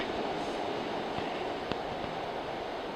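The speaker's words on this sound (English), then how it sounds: "we'll wait for the train to go by." A train rumbles past steadily, a continuous broadband roar with a few faint clicks of wheels on the rails and no talk over it.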